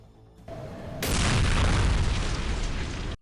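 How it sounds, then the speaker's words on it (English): A bomb blows up in Counter-Strike: Condition Zero, a sudden loud blast that cuts in sharply and holds as a dense roar for about two seconds before stopping abruptly. "So our boy Yuri straight up uses a bomb."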